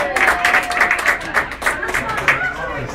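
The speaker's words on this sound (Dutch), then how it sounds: "Applaus!" At an outdoor clubcross race event, a small crowd claps in uneven bursts of individual hands, fairly close, while voices and a loudspeaker carry over the clapping.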